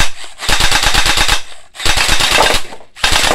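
A Glock 18 blowback gel blaster toy gun fires loud, rapid full-auto bursts: two long strings of fast snapping shots and a short third burst, with brief gaps between them.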